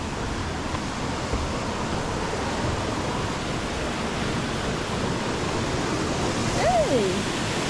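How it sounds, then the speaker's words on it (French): Steady broadband rush of a small stream flowing near Wairere Falls, New Zealand, constant and fairly close, with a faint brief whistle-like tone near the end. "C'est juste un ruisseau genre."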